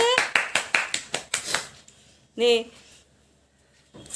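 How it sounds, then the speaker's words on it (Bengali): Family members clapping at a home birthday celebration: about nine quick, close, evenly spaced claps in a rapid run, then a brief voice and near silence. "হ্যাপি বার্থডে টু ইউ হাততালি দে হাততালি দে"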